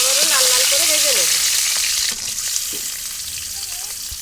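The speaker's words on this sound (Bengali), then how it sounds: "বাকি মাছগুলো আমি আবারও লাল লাল করে ভেজে নেব।" Pieces of rohu fish fry in hot oil with a loud, continuous sizzle and crackle. Someone talks over the first half, and after she stops the frying carries on alone, slightly quieter.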